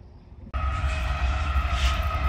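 A train rolls past a Route 66 campground in Seligman, Arizona, starting abruptly as a loud, steady rumble with a low droning hum that holds close and constant without letting up.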